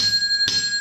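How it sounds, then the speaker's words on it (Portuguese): A notification bell sound effect rings with a bright sustained chime and a quick tap midway, close and clear with no talk over it. "ative o sino da notificação"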